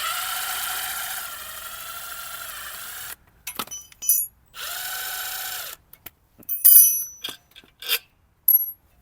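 A ratchet works retainer nuts loose on a small generator engine in bursts of clicking and whirring, broken by short metallic clinks and pauses, close and fairly quiet.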